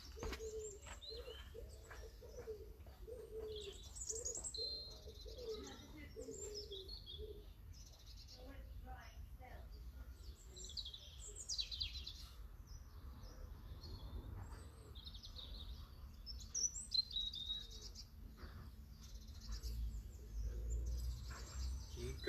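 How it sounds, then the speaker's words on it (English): Birds call outdoors in a quiet setting: low repeated cooing phrases early on, then scattered high chirps and tweets, all faint and somewhat distant over a low rumble, with brief murmurs of voices in the background. "Listen to the sounds of the birds."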